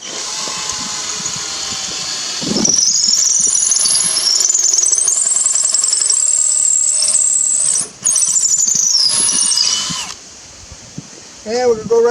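A power drill bores through the mounting hole of a Ford Explorer grill guard with a loud, high, steady whine lasting several seconds, dipping once briefly and then stopping.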